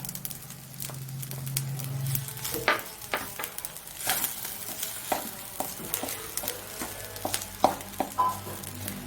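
Fried onions are stirred into tomato rice in a pan, a spoon scraping and tapping through the mixture in irregular close strokes over a soft sizzle, with a brief low hum at the start.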